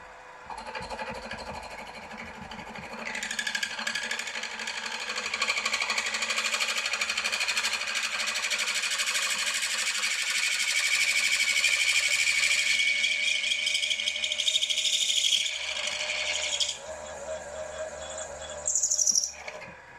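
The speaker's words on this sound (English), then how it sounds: "now I've just set up the reamer. Right, 7/16 reamer." A 7/16 inch reamer cuts through a cross head for a 2 inch scale Fowler showman's traction engine, giving a sustained, fairly loud machine whir with a faint rhythmic chatter that runs for most of the span before cutting off.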